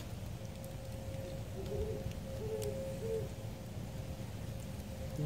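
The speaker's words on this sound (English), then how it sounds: "I don't know if you guys can hear that owl. Got a hoot owl close by." A hoot owl calls nearby at a campfire, its few soft, low hoots rising faintly over a steady wash of outdoor noise that sounds like rain.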